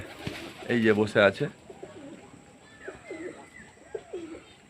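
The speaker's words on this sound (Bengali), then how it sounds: "আর একটা নলপায়রা নেটের বাইরে থেকে ডাকছে" A pigeon coos from outside the net of a loft holding mother birds and chicks, giving a few low, soft coos at moderate distance after a short burst of talk.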